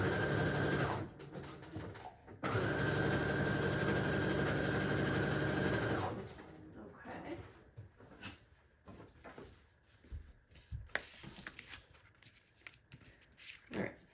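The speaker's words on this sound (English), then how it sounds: "for a quick little look at sewing" A sewing machine stitches a small handmade mini journal in a steady, close mechanical whir. It runs in two bursts, a short one and then a longer one, followed by quieter handling noises. There is no talking.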